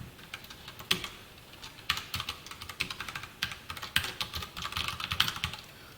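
Computer keyboard typing HTML and CSS code, quick irregular clicks in uneven bursts over several seconds, close and fairly quiet with no voice.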